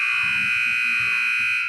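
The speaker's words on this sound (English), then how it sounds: "There is the buzzer," Hockey intermission buzzer sounding, a loud continuous tone held throughout, with low murmuring voices under it.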